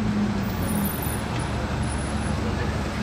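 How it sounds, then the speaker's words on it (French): A bus rolls by in busy street traffic, a broad, loud engine roar mixed with surrounding road noise that holds steady for the whole stretch. "Et hop, le bus typique."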